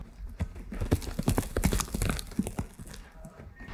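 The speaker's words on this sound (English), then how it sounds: "I just want to hear a sound of horses running through mud." AI-generated sound effect of horses running through mud: a quick, uneven patter of wet, squelching hoof strikes from several animals, moderately close and loud, easing off near the end with no talking.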